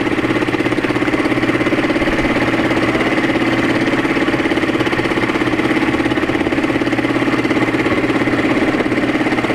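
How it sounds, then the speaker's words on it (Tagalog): A small motorized fishing boat at sea, its engine chugging steadily and loudly at an even, idling-like pace throughout, with no talk. "Sakay po kami sa Bangkang di Motor."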